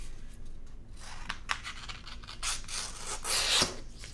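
Transfer tape over a vinyl sign being trimmed with scissors or a blade, giving soft rubbing and rasping cuts with a few sharper snips, close and fairly quiet, with no talking.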